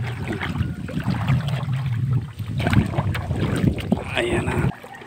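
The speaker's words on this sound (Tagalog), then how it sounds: "Mahangin, nahirap magsagwan." Wind buffets the microphone over lapping water around a small rowboat being paddled at sea, with faint voices talking now and then.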